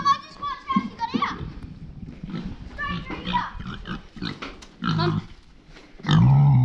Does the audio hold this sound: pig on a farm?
yes